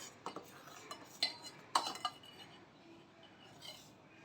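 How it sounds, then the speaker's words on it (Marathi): Semolina kheer being spooned from a pan into a bowl, with a few light clinks and scrapes of a metal spoon against the dishes, then quiet; no talking. "आता आपण गॅस ऑफ करूया आणि बाउलमध्ये आपली खीर सर्व करूया"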